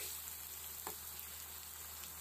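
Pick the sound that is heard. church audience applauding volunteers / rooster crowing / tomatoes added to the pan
tomatoes added to the pan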